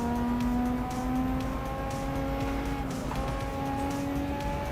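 Car engine in Assetto Corsa holding a steady high drone, the pitch stepping as the gearbox shifts up into fifth and top gear on a drifting and Shutoko Wangan cruising run, loud and continuous with faint tire noise.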